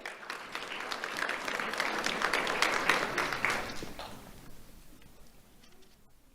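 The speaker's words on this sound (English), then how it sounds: "Let's have a round of applause for Edgar Zaragoza." Audience applause at a Do The Right Thing awards ceremony held by a county sheriff's office, a steady burst of clapping that swells for about four seconds and then thins out to scattered claps.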